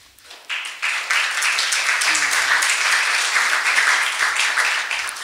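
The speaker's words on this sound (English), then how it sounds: "We probably can like clap for all of them together till the end." Audience applause at a university library and information science recognition ceremony swells in after a quiet start, then holds as sustained, moderately distant clapping from a crowd, with a brief voice underneath.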